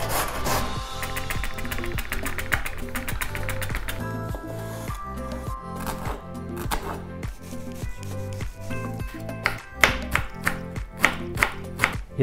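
A carrot is rubbed along a coarse grater in a steady back-and-forth rasping rhythm close by, continuing under background music, with a few sharper knocks toward the end.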